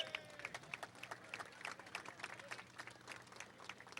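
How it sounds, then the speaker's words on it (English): An outdoor ceremony audience claps for a San Francisco 1906 earthquake and fire commemoration, producing a steady, diffuse patter of many hands. The applause sounds distant and fairly faint and continues evenly without any voices standing out. "that applause is supposed to wait till she gets here"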